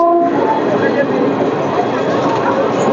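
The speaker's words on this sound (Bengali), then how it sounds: "আমার পাশ দিয়ে বেরিয়ে যাচ্ছে গঙ্গাসাগর এক্সপ্রেস" The Gangasagar Express passenger train rumbles past close by without stopping, with a brief horn-like tone at the start, then continuous wheel and carriage noise.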